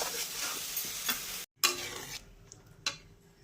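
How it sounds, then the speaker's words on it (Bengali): Mushrooms and potatoes are stirred in a frying pan for a Bengali mushroom curry, a close scraping stir over steady sizzling that breaks off briefly midway, then resumes more quietly with a couple of sharp clinks. "তারপর আমার কেটে রাখা আলুগুলো আছে, আলুগুলো মাশরুম একসাথে দিয়ে আমি কষতে থাকবো।"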